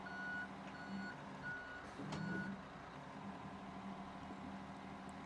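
Reversing beeps from a truck in a European trucking video game repeat at a steady pace over a low, constant engine rumble, with one brief hiss partway through.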